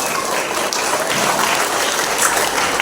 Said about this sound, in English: So give a warm clapping to our students.